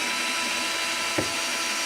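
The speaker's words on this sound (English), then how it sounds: "I typically use a cordless drill." Cordless drill driving an Allen head screw into the arm of an Osaki OS-4000 Zero Gravity massage chair, a steady close motor whir running throughout with one brief knock near the middle.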